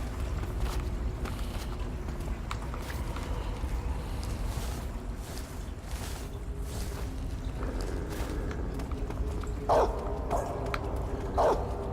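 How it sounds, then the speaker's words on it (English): A dog barks behind a gate in the stealth game Metal Gear Solid 3: Snake Eater, a few short barks near the end over continuous game ambience of rushing river water. "there's a dog behind that gate there"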